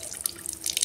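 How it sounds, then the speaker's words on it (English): Water runs steadily from a household tap for under a second, a close, fairly quiet hiss with bright splashy texture and no talking. "turn on the tap"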